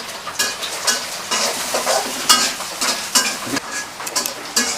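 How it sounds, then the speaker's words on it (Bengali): Food frying in hot oil in a home kitchen gives a steady, close crackling sizzle, broken by repeated scraping and stirring strokes of a utensil against the pan, with no talking. "তেলটা একটু গরম হোক তেল গরম হয়েছে"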